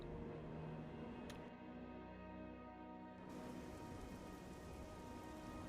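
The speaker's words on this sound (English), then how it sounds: "Now it's raining, so it's fuck storming actually, not just raining, but pouring down cats and dogs" Rain pours steadily in The Elder Scrolls IV: Oblivion, a dense continuous hiss of drops that is quiet but unbroken from start to finish, with no talk over it.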